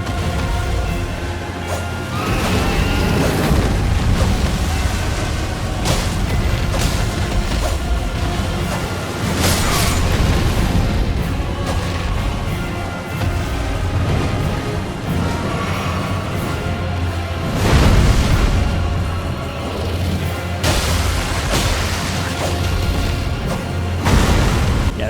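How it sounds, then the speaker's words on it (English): A dragon in the Elden Ring video game breathes fire in repeated loud roaring blasts and whooshes, with booming impacts layered over a dense, continuous game soundscape. "Dragon, are you just gonna keep spamming fire now?"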